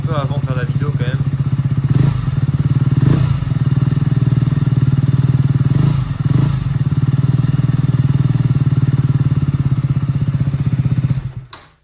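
A motorcycle without a baffle in its exhaust runs steadily nearby with a loud, throbbing, rumbling idle and a few revs before cutting off at the end.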